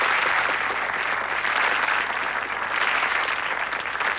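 Sustained, dense applause from a TV game show studio audience in 1986, loud and steady from start to finish, with no one talking over it.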